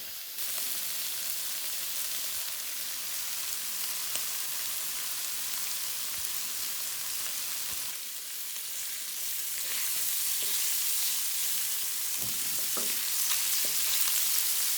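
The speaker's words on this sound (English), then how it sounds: "our sausages have been in the skillet with our vegetables for about 5 more minutes" Polish sausage, peppers and onions fry in a skillet with a steady, close sizzle and hiss throughout, broken by occasional faint clinks and stirring sounds.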